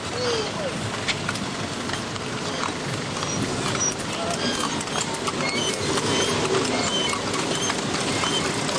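Horse hooves clip-clopping while pulling a kalesa carriage along a busy street, steady close hoofbeats under constant traffic and crowd noise, with voices speaking.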